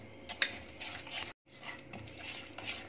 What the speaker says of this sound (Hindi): अब हम इसमें बेसन को डाल देंगे और इसको भी अच्छे से हम मिक्स करेंगे।